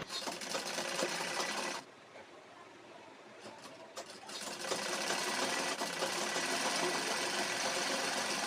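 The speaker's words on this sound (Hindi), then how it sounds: "जो हमारा लाइनिंग वाला कपड़ा है उसको हम एक साथ लेते हुए पूरी सिलाई यहाँ पर निकाल देंगे।" Sewing machine stitching lehenga fabric together with its lining, a loud steady whir that stops for a couple of seconds before running again.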